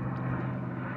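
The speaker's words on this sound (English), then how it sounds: "And another plane." A propeller airplane drones overhead above a lakeside park in Michigan, a steady low engine hum heard briefly and fairly loud.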